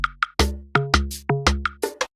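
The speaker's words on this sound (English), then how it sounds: "So the lock drum alone hits like this." Lock drum sample from a beat, played alone as a short pattern: about seven punchy hits with sharp attacks and quick decays in an uneven groove, with no other instruments or voices.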